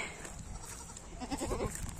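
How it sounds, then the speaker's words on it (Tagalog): A goat following someone through a backyard gives a short, faint bleat over steady outdoor background noise. "Bakit ba tong kambing ay nasunod?"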